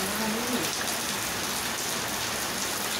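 Steady rain falls on surfaces all around, a dense, even hiss of drops that stays loud and constant throughout, with no voices.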